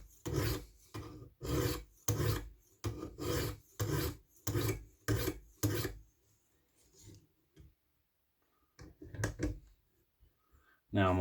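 Spyderco Pacific Salt knife drawn across a sharpening stone on a weighted stone carrier, about ten steady rhythmic rasping strokes close up, then a pause and a few lighter strokes.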